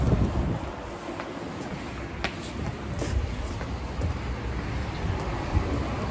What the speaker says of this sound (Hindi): मेरे हिसाब से अभी भी थोड़ी थोड़ी बारिश हो रही है।